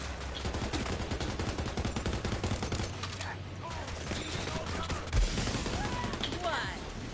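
Rapid SMG gunfire in Borderlands 3, dense bursts of shots running nearly nonstop, loud and close, with game effects mixed in.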